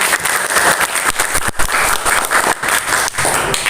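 Students in a classroom applaud, steady loud clapping from many hands filling the whole stretch with brief dips.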